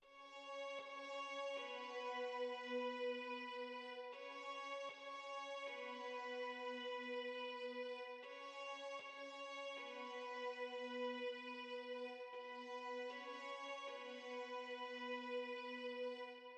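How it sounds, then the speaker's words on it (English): A section of strings from a music track plays alone, quiet sustained bowed chords that shift every couple of seconds in a slow, smooth progression with no other instruments. "So this is what one set of strings sounds like."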